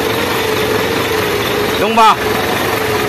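An Isuzu 10PE1 diesel engine idles after a general overhaul for a valve tappet fault, with a steady close rumble and a brief rising-and-falling burst midway while someone speaks briefly.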